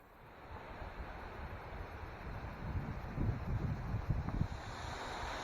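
A waterfall in the Pyrenees roars as a steady broadband rush, heard from the head of the falls, with wind gusting across the microphone and the roar swelling slightly toward the end.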